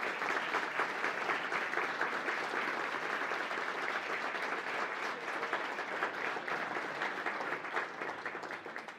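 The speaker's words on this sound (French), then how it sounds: "qu'on donne une bonne main d'applaudissement" An audience at a municipal housing forum applauds in a dense, sustained burst of clapping that holds steady for several seconds before easing slightly at the end.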